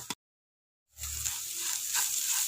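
Grated coconut tossed into a pan of chicken thoran with stems, Kannur style, over medium flame, breaking into a steady close sizzle and frying hiss after a brief silence, with faint stirring scrapes.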